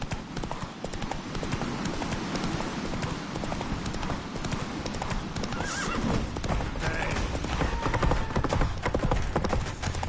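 Roach, Geralt's horse in The Witcher 3 video game, gallops with steady, rapid clip-clop hoofbeats and a whinny partway through, over a dense bed of game ambience.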